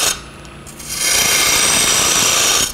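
Spindle gouge cutting a small wooden pot on a spinning lathe, loud and close: a brief scrape, a quieter pause, then a steady, continuous rasping cut.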